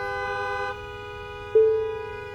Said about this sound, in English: These people are honking because they're not turning right.